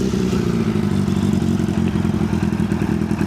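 Suzuki Bandit 600cc motorcycle engine running steadily at idle, a loud, continuous low rumble with a faint mechanical clatter throughout and no voices.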